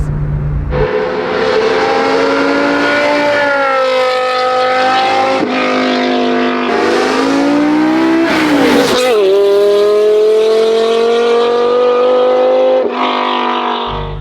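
A V10-swapped BMW E46 M3 engine screams close by, its pitch climbing and dropping through several long sustained revs, piercing and loud, with brief breaks between pulls.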